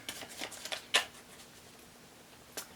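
A deck of cards being shuffled by hand at close range, a series of soft riffling bursts and snaps, one sharper slap in the middle, otherwise quiet.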